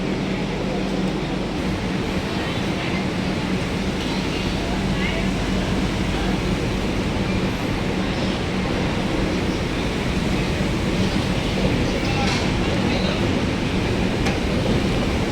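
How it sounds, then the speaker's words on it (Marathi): Saurashtra Janta Express pulling out of Vapi station after a two-minute halt: a steady, broad rumble and rushing noise that stays even throughout, with a voice talking over it. "दोन मिनटाच्या हॉल्टनंतर इथून वापी स्टेशनवरून निघालेली आहे ट्रेन"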